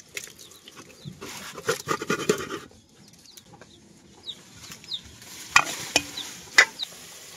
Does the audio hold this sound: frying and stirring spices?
yes